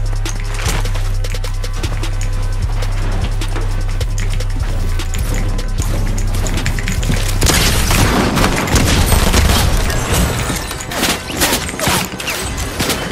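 Gunfire in a competitive shooter video game, rapid sharp shots in quick succession over a low droning hum, swelling into a louder burst of overlapping blasts and impacts.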